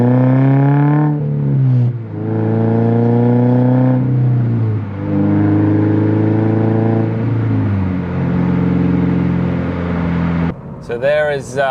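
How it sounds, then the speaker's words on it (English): Toyota GR86 fitted with an axle-back exhaust pulls from second up to fifth gear, its engine note climbing in rising sweeps broken by brief dips at each shift, loud and close from inside the car. "we're gonna do a little pull from second gear up to fifth"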